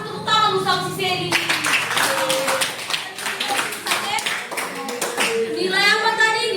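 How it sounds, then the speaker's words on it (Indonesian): A classroom group claps for a student, a dense burst of hand clapping over several seconds, with a teacher's voice speaking at the start and end. "Kasih tepuk tangan dulu sama si Sally."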